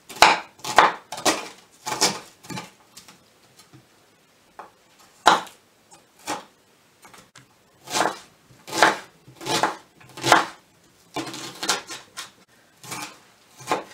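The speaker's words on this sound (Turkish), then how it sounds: "güzelce soğanlarımızı doğradık" Onions are diced for a roast goose dish, the knife striking the board in quick bursts of sharp chops with short pauses in between, close and clear with no voices.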